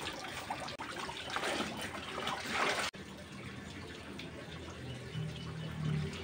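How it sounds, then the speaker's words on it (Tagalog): Laundry rinse water poured out onto plants, a steady splashing and trickling stream that shifts partway through to a quieter flow. "ginamit ko na yung tubig pinagbanlawan ko sa mga aking mga halaman"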